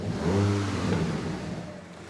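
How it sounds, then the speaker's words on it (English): A rebuilt, previously wrecked VW Golf R engine revs briefly and then settles into a low exhaust burble, heard close up with a fading rise and fall and no talking. "I'm getting a little bit of a barbel on the back. Have a listen."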